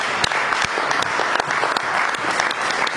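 A church congregation applauds steadily and loudly, with dense clapping throughout and a few sharper individual claps standing out over the crowd.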